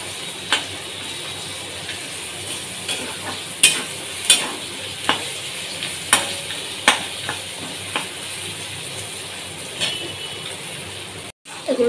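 Vegetables stir-fried in a pan for a quick breakfast dish, with a steady soft sizzle broken by sharp, regular scrapes and clacks of a spatula against the pan, close and moderately loud.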